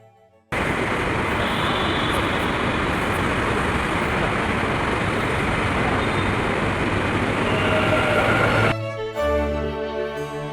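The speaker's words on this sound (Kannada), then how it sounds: "ಹೋಗಿದ್ದು 2 ನಿಮಿಷಕ್ಕೇ ನಮ್ಮ ಮೆಟ್ರೋ ಬಂದೇ ಬಿಡ್ತು." A Bengaluru metro train pulls into a station with a loud, steady broadband rumble and rush. Near the end the roar cuts off abruptly and is replaced by a chime-like tonal signal.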